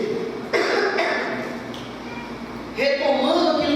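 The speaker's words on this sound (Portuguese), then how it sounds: "Perdão, irmãos, a tosse chegou." A man coughs a few times in the middle of a Portuguese church sermon, close and fairly loud in a reverberant hall, with short harsh bursts and a final throat-clearing sound.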